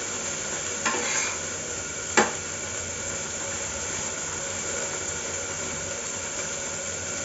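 Brinjal is stir-fried in a kadhai, with a faint hissing sizzle throughout and two brief spatula scrapes near the start.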